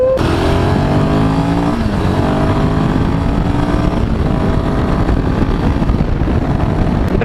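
A Royal Enfield Himalayan 450 motorcycle cruises on a highway at around 100 km/h, its engine drone loud and continuous with rising harmonic tones under heavy wind roar, steady throughout with no talking.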